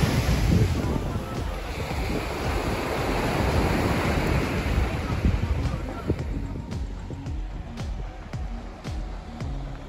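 Waves surge and wash onto a beach at Şile on the Turkish coast, with strong gusty wind buffeting the microphone, a loud, continuous roar that eases toward the end, with scattered clicks and brief voices.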